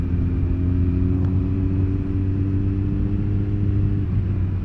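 A Kawasaki ZX-14 sports tourer ridden over rough roads: a constant loud, low engine hum and rumble of wind and road noise, with no voices.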